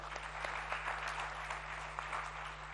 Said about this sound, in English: Can we have a warm round of applause for Mr. Ajay Piramal?